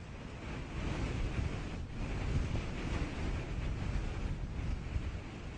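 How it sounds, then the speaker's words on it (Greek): Strong afternoon wind blowing across an open outdoor site, a steady, loud broadband rush with gusty buffeting on the microphone throughout, no voices. "Στη διάρκεια του απογεύματος ξεσπά δυνατός άνεμος"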